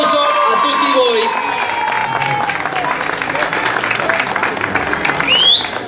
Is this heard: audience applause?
yes